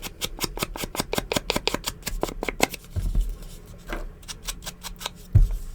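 Scissors cut through a paper lunch bag in a quick run of crisp, evenly spaced snips, close and clear, then a few slower scattered cuts with light paper handling.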